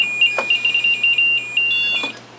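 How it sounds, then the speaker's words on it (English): A temperature sensor alarm emits a rapid run of loud, piercing electronic beeps close by, a string of short repeated pulses followed by a longer sustained tone, no talking. "It's just a temperature alarm"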